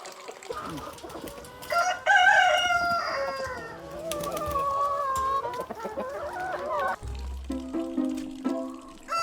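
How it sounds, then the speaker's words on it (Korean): A rooster crows loudly nearby while chickens cluck around it in a farm yard, the calls rising and falling before a few shorter clucks at the end. "아침 식사를 마친 닭들은 마당에 나와 운동도 하고"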